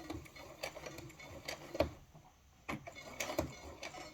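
A sewing machine stitches a garment hem in quiet, uneven bursts of rapid mechanical ticking, with short pauses between runs.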